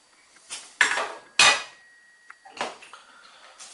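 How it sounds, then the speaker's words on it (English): A spatula stirring sugar into a cider kit, heard as a few sharp scraping knocks and clinks against the vessel, spaced irregularly with quiet gaps between, close and fairly loud. "I use this. That's just going to stir the sugar in."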